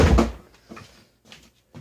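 A few short knocks and clunks from a door being worked open, a louder bump at first followed by quieter rattles, close and without speech.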